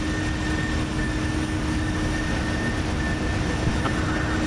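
Steady, loud broadband jet roar from an airplane taking off from runway 22, a continuous engine rumble with a faint high whine, holding level throughout and without voices.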